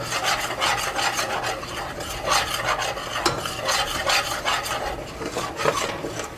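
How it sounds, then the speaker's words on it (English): Flour being stirred into melted butter in a pot over medium heat for a mac and cheese sauce, a steady close scraping and rubbing that runs continuously with no talk. "So just constantly stirring. I have it on medium heat."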